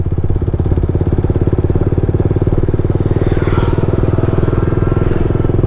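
A motorcycle engine pulls steadily in fourth gear, a loud close drone with a fast regular firing pulse that holds even throughout, with a brief faint higher whine midway.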